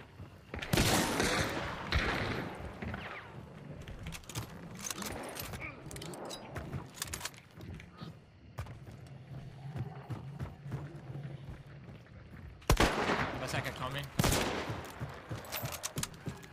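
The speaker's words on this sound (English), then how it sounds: "Let's shoot him!" Gunfire in the video game Hunt: Showdown, with loud shots and bursts scattered across a busy fight, clustered at the start and again near the end, mixed with clattering effects and voices talking over it.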